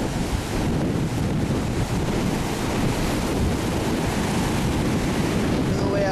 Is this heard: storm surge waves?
yes